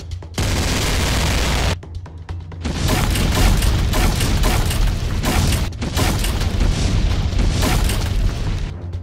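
Heavy artillery fire in an animated battle between French forces and Dai Nam, loud sustained booming barrages and rolling explosions with brief gaps, dense and close throughout.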